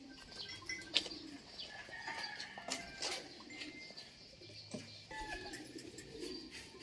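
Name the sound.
fancy pigeons cooing in a breeders' loft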